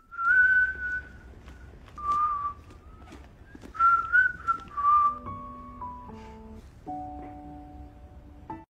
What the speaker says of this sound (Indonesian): sedang membersihkan sepatu rodanya sambil bersiul